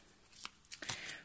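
Oracle cards being shuffled and drawn from a small animal-spirit deck, a few quick soft papery riffles and slaps, close and quiet.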